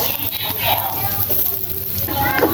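Garlic, ginger and plenty of onions fry in a hot pan in a Filipino kitchen, giving a steady, loud, continuous sizzle close up with faint stirring scrapes through it.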